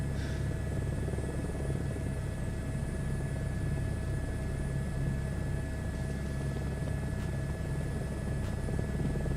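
Airbus H160 helicopter in Microsoft Flight Simulator 2024, cruising near 90 knots: a steady, unbroken drone of rotor and turbine with a deep rumble underneath, loud and constant throughout, with no voices.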